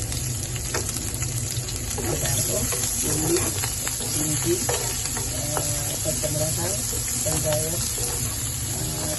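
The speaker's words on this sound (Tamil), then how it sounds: "கடுகு மற்றும் ஜீரகம் மஞ்சள் எல்லாம் போட்டு இதையே நாங்கள் வறுத்து எடுக்கிறோம்" Moringa powder ingredients with mustard seeds, cumin and turmeric roasting in a pan, giving a steady close sizzle with scraping stirring sounds throughout.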